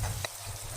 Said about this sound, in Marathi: कढीपत्ता घेतला होता, कढीपत्ता टाकून द्यायचा।